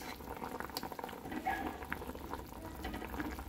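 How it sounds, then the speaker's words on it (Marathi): Gatte, gram-flour dumplings, steam in a pot of oiled boiling water, a steady bubbling simmer with soft gurgles and small pops throughout, close and moderately quiet, with no talking. "एक साधारण 5 ते 10 मिनटं ह्याला वाफवावं लागेल आपल्याला"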